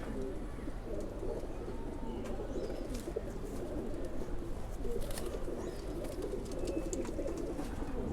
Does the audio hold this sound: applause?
no